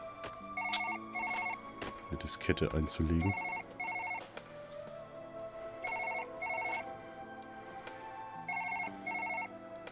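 A telephone rings in the Surgeon Simulator 2013 video game, a repeated two-tone electronic ring in short bursts that keeps going under someone talking and a brief clatter of game noise.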